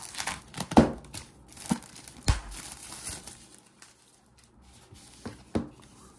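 Plastic shrink wrap is torn off a new book with crinkling and ripping, irregular bursts and sharp snaps, louder near the start and then tapering into softer rustling.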